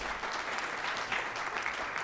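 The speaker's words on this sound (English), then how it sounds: "Round of applause here for PJ." Dense audience applause at a 2017 medical debate, a loud, continuous wash of many hands clapping at once.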